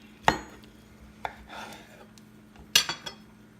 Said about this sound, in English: So usually I cut the papaya this way and I create slices